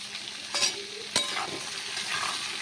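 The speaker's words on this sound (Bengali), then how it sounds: "এবার মশলা আলু আর বেগুনটা সুন্দর করে কষিয়ে নেব" Potato and eggplant with salt and turmeric being stir-fried in hot oil, a steady close sizzle broken by a couple of sharp scraping stirs of the spatula against the pan, with no talk.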